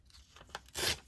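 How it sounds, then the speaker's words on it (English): Paper ripped by hand at an angle for a scrapbook mini journal, a few faint crinkles building to one short, bright tearing rip, close and quiet. "Yeah, I'm just going to rip it at an angle."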